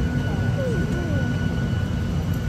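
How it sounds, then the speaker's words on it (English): Steady airplane cabin drone from a seated passenger's position aboard a flight, a constant engine hum under faint background sounds and no clear talk. "We made it on the airplane."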